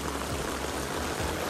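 Heavy rain pours down steadily during a storm, a dense, continuous broadband hiss with no gaps, close and fairly loud, heard while storm drains are being cleared.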